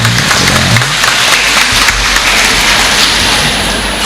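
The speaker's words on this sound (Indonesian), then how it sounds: "tepuk tangan untuk Ibu Bapak" Applause from an audience at a gathering of teachers and staff, a dense continuous patter of clapping filling the room at steady loudness, with low voice-like murmurs early on.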